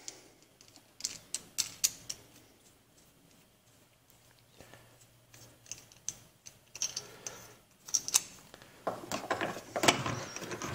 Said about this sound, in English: reassemble the shoe onto the architectural lighting fixture